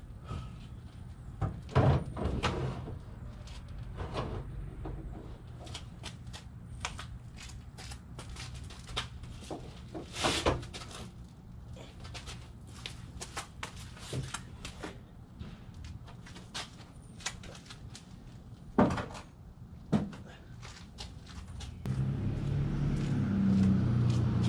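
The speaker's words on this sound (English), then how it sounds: "But first I got to pull the hood off." The hood is pulled off a Nissan Z car in a garage, giving scattered metallic clunks, knocks and rattles at an irregular pace, a few louder bangs among them, and a low rumbling noise toward the end.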